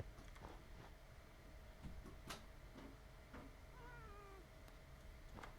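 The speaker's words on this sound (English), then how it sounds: "I think there's a cat at the door again." A cat meows at a door, a few short, faint calls in a quiet room with soft ticking and small knocks in the background, and no one speaking.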